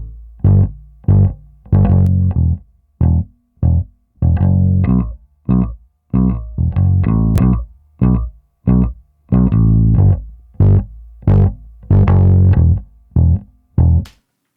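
Bass played through a UAD Zener compressor with THD distortion, giving loud, punchy, gritty plucked notes in a quick, steady rhythm with chorus-like width and no talking over it.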